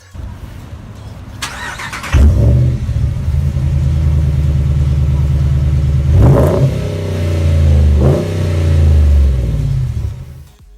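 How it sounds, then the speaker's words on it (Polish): A car engine starts with a whir and catches into a loud, close idle, then revs up twice, each rise in pitch easing back to a steady rumble with no talking. "Jeżeli chodzi jeszcze o dźwięk silnika, bo taki został nadesłany, posłuchajcie."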